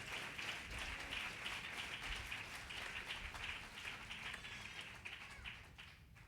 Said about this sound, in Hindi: जोरदार तालियां प्रभु के लिए आप जरूर दे सकते हैं।